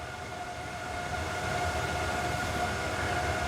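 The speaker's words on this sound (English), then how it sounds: "you can definitely hear the fan sounds to that" A steady mechanical whir hums continuously with a faint tonal whine, swelling slightly louder partway through and holding steady, with no voices.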